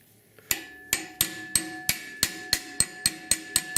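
A ball peen hammer strikes a rusted 1969 Chevrolet C10 truck core support in ten sharp, ringing metallic blows at a steady pace, each clang decaying quickly, with no talk.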